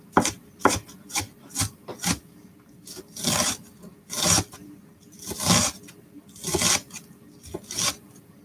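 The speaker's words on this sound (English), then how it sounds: "So that way when you're chopping, you don't have to worry about getting your fingers cut." A knife chops onions on a board in a home kitchen, making a dozen crisp, close strokes in an uneven rhythm, some single and some in quick rasping pairs, with no talking.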